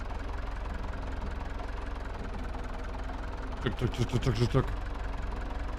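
An old tractor engine labours in low gear in Farming Simulator 22, a low steady droning rumble that runs throughout, while someone speaks briefly over it near the end.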